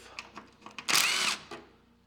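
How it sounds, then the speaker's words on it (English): A power drill whirs in one short, loud burst of under half a second, framed by a few light clicks and taps. "I have to drill it a little bigger"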